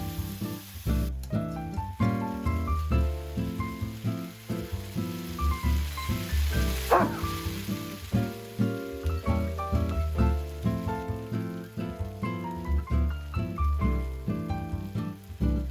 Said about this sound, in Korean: 삶아놓은 라면사리 넣고 간장 한 스푼 볶아주세요.